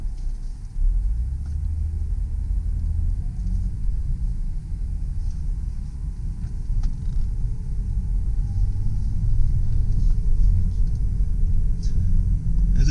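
A 2004 Lexus RX330 rolls off in reverse, its steady low engine rumble running evenly and close for the whole stretch with no other sounds on top.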